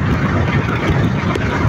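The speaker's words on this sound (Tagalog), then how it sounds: "Kaso lang medyo papalakas na po ang hangin." Strong wind buffets a fishing boat at sea, a loud, constant roaring rush that fills the sound without any pause.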